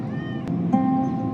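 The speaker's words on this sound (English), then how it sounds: "Wow, that is an old cat." An old cat gives a single short meow, fairly clear and close, heard alone.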